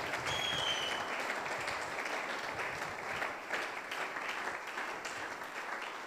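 A church congregation applauding and cheering the Lord, sustained dense clapping from a large crowd that holds steady throughout, with a faint tone near the start.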